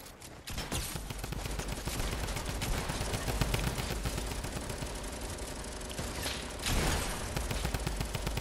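Dense, continuous infantry rifle fire and explosions from a Fortnite D-Day battle, loud and sustained over a rumbling background, with a surge around the middle and later bursts.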